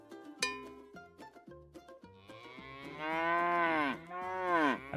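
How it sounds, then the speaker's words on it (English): Video game cow mooing repeatedly, several long bellowing moos following one another over clicks and light game noise, with no talk. "It's cow sounds."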